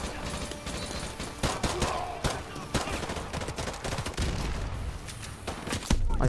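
Call of Duty: Modern Warfare 2 gunfire on Veteran difficulty, bursts of rapid automatic shots and scattered single cracks in a chaotic firefight, loud and close throughout.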